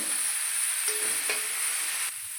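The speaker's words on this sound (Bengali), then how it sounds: "দিয়ে দিচ্ছি ফুলকপি মশলার সঙ্গে ভালো করে মিশিয়ে নেব" Cauliflower being stirred into fried spices in a pan: a continuous hissing sizzle with a few scraping strokes, close and fairly loud, and no voices.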